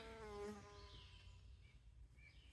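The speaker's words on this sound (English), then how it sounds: "There was a little hornet buzzing around." A small hornet buzzes close by indoors during a Kool-Aid powder painting craft, its wavering drone rising and fading over a couple of seconds with no talking.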